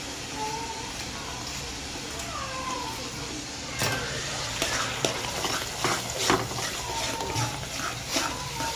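Konkani masala paste with tomatoes frying in a pan, a steady soft sizzle with scraping stir strokes and utensil knocks growing busier in the second half, close and moderate in level.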